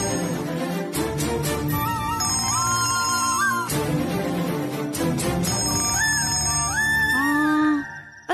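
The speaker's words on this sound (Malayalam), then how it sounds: "ഇതാരാ എന്നെ വിളിക്കാൻ?" A telephone rings with an incoming call, playing a melodic electronic ringtone that runs continuously for several seconds, loud and close, its tune rising and falling in repeating phrases before cutting off.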